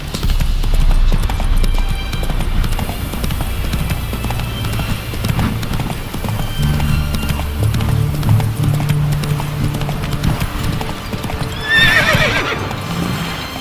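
A horse gallops in The Witcher 3: Hearts of Stone, with rapid rhythmic hoofbeats close by throughout and a loud whinny near the end.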